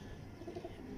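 Teddy pigeons coo softly in a short, low burbling call, close by and quiet, with no talking over it.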